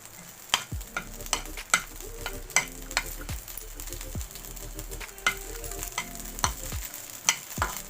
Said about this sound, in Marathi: नंतर हे लसणाच्या पाकळ्या त्याही टाकायच्या आहे आणि थोडंसं असं तेल त्याला शिजवण्यासाठी असं मस्त थोडंसं ब्राऊन ब्राऊन करायच्या